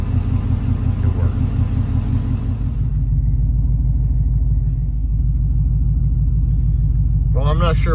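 A car with a freshly installed Boss Racing cam sits idling with a loud, steady, low engine rumble that fails to lope. A faint voice is heard over the drone early on.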